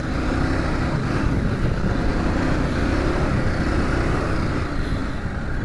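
A KTM 790 Adventure R motorcycle ridden through deep sand in Morocco, its engine a steady, loud drone mixed with heavy wind rush across the microphone, with no one speaking.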